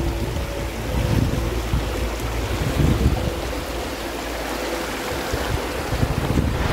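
Waterfall and river at Garganta del Diablo near Tilcara, Jujuy: a steady, broad rush of falling water fills the whole scene, dense and continuous, with wind buffeting the microphone and no talk.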